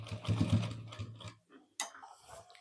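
A sewing machine stitching a cut pocket on a college uniform coat, a short burst of soft whirring motor hum that stops, followed by a faint click and a rustle of fabric close by.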